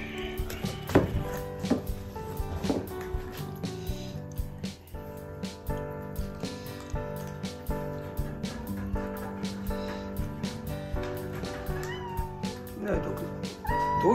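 A cat meowing indoors among music and talk, its cries rising repeatedly through a busy background of instruments and voices across the clip.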